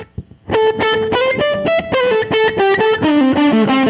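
Electric guitar run through a Universal Audio guitar studio setup with slapback delay across two speakers and studio reverb, playing a loud melodic line of sustained notes with short echoes trailing each one, alone without voices.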